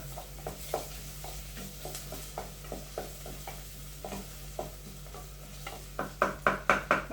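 Tomatoes sautéing in a pan for Tamil morkulambu, a steady sizzle broken by repeated scraping stirs that grow louder and quicker toward the end, close by with no talk.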